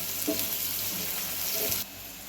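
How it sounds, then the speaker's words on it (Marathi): Onion frying in hot oil for a soybean curry, giving a dense steady hiss with a couple of quick stirring scrapes before the sizzle drops off sharply near the end. "तेल गरम झाले आता ह्यात टाकूया आपण कांदा बघा कांदा आपण आता छान असा भाजून घेऊया लाल होईपर्यंत"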